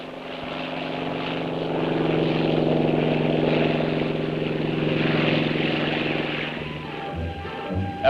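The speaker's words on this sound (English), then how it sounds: "As it takes off, this F-6F drone hasn't a care in the world." An F-6F drone aircraft taking off at Point Mugu, a steady loud propeller engine drone that swells and holds, then eases off near the end with a few thumps.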